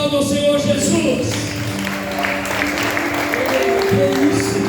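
A church congregation stands and applauds during a community anniversary service, a dense, steady wash of clapping blending with crowd noise and tonal music throughout.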